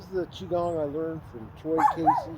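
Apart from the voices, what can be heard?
chihuahua barking at the dog park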